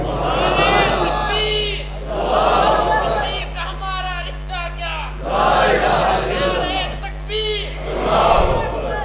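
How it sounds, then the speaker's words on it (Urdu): A man bellows a slogan at a religious gathering in Said Pur, Sialkot, his loud, drawn-out shouts rising and falling over an answering crowd. "میرے پتر نے ویکھو نا نعرہ مار چھڑیا ہے"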